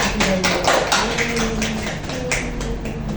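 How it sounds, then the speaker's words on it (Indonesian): A small class of students clapping for the prize winners in a micro-teaching lesson, a brief scattered round of claps close by with uneven rhythm. "Kita beri tepuk tangan"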